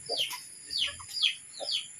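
Several short, sharp calls from chickens clucking nearby repeat in quick succession during heavy rain and wind in the countryside, with faint steady hissing behind them, no talking.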